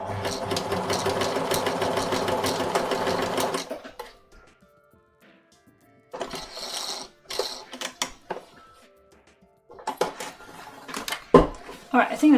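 A sewing machine stitches white fabric with a steady, fast mechanical whir for several seconds, then pauses before a few shorter bursts start and stop amid handling clatter and quiet speech.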